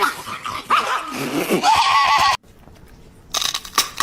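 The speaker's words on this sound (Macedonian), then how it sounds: "Зашто тие кучиња се секогаш нервозни?" Dogs growl and snarl in agitated bursts up close, followed by a sudden pause and another short noisy burst.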